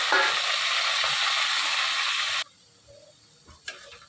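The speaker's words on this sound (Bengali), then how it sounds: "লাল লাল করে ভেজে নেব।" Loud, steady sizzling of potatoes frying in hot oil for about two seconds, then it cuts off abruptly, leaving quiet with a few faint clicks.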